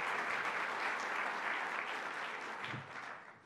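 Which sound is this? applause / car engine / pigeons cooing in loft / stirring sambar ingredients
applause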